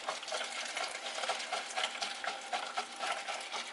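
Pastry cream for a chocolate cream pie, stirred in a pan on the stove with steady scraping and bubbling, quiet and close with no talking.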